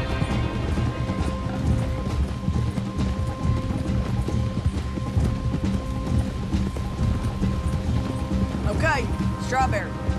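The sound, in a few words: horses' hooves while riding, from the video game Red Dead Redemption 2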